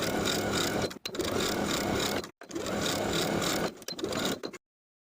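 A sewing machine stitches single-fold bias tape along the edge of a denim skirt waistband, running loud and steady in long continuous passes broken by brief stops.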